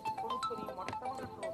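A phone's ringtone plays a short repeating pattern of bright, beeping melodic tones, moderately loud and close, with no one speaking over it.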